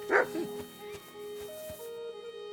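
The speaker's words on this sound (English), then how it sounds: "What are you barking at, my friend?" Dog barking in the medieval role-playing game Kingdom Come: Deliverance II, a close bark or yip at the start followed by quieter whimpering tones over steady in-game ambience.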